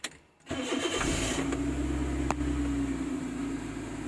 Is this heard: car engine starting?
yes